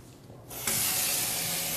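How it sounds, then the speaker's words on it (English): Warm water runs from a tap into a kitchen sink with dish soap, starting as a soft spray, then swelling into a loud, steady rushing stream. "I'm going to fill this sink with warm water and some soap."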